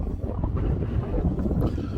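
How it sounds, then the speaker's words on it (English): Gusty wind rumbling hard against the microphone outdoors, a low, uneven roar that swells and dips with no talking. "It's just hideously windy"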